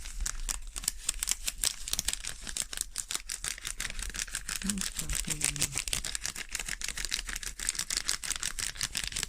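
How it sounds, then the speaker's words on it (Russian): Dry seasoning for meat sprinkled straight from a packet over a home-style potato casserole, heard as a run of rapid close granular ticks and patters against a steady background hiss. "С пакетика прямо посыпаем"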